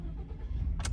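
A Ford F150 engine starting on a new battery: a low, steady cranking rumble ends in a sudden bright catch as the engine fires, near and fairly loud.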